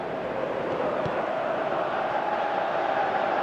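Simulated stadium crowd at an e-sport football league match, a steady broad roar holding even loudness throughout the whole stretch with no talk over it.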